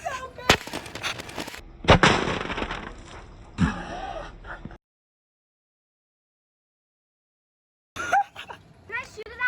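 A homemade bean-firing shotgun goes off in a couple of sharp, close bangs amid bursts of voices, then silence before more people talk.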